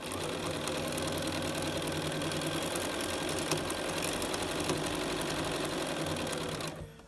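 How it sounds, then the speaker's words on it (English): Sewing machine runs in a fast, continuous whir for about seven seconds while stitching quilt pieces for a snow cabin quilt, close and steady, stopping abruptly at the end. "hold it all down, and sew."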